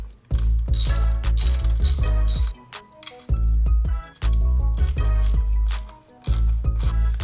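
A ratchet works a bolt loose on a 2019 Yamaha YZ450FX dirt bike: several loud, close bursts of rapid pawl clicking with short pauses between strokes, and no talking.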